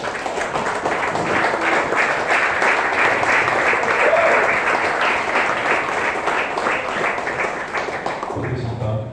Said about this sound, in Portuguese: aplauda a palavra.